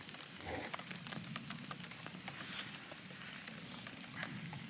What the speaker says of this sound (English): Now everyone, it is starting to rain.